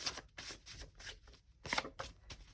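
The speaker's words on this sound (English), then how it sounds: "Oh, you can't really see me shuffling." Tarot cards are shuffled by hand in quick, uneven bursts of papery riffling and slaps, close and fairly quiet, with short pauses between flurries.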